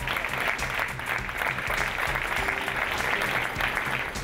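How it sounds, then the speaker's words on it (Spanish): Audience applause at a retablo art exhibition opening in a gallery in Puebla, a steady, fairly soft patter of many hands clapping with no talking. "Un aplauso para ellos, por favor."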